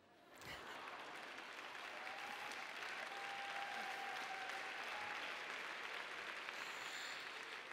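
An audience at an award ceremony breaks into sustained applause for the prize winners, a steady wash of many hands clapping that holds evenly throughout, fairly faint and distant.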